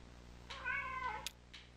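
A cat in the video game Kentucky Route Zero gives a single clear, drawn-out meow over a quiet steady hum, with no talking.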